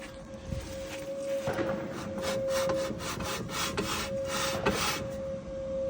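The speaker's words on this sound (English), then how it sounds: "this little dust shield right here, to cooperate, because it's rubbing pretty good" A brake dust shield on a turbo SC300 build rubs against an oversized rotor, making a rhythmic scraping, rasping sound in repeated strokes over a steady faint tone, close and moderately loud.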